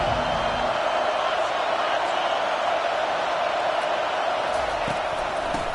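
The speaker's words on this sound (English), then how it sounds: "This crowd bringing an ear-splitting welcome to their visitors." A dense stadium crowd roars steadily throughout in a college football game, a loud, unbroken wash of cheering with no talk heard.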